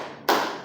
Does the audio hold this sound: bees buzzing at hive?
no